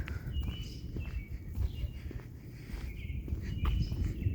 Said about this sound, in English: Nice to hear all the birds.